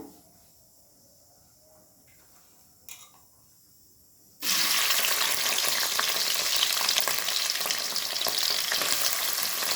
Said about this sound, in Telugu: ఆయిల్ వేడవుతున్నప్పుడే మనం ఆనియన్స్ వేద్దాము.